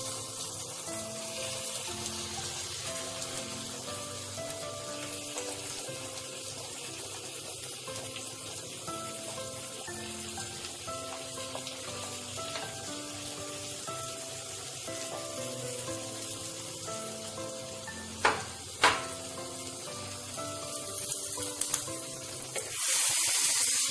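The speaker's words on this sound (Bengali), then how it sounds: "এবার এই ম্যারিনেট করা চিকেনটা আমি দিয়ে দেব।" Marinated chicken sizzles in a pan, a steady frying hiss under faint background music, with a couple of sharp clinks and a louder burst of sizzle near the end.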